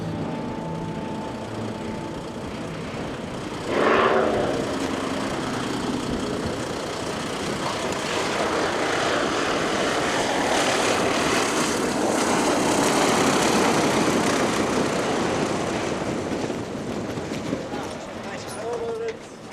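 A steady airplane engine drone on Fair Isle, Shetland, runs throughout, fairly loud and continuous, with a brief louder burst early on and a slight swell toward the end.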